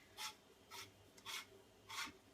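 A handheld spiralizer twists a zucchini into flat noodles with four soft, rhythmic rasping scrapes, each about a second apart. The sound is close but quiet.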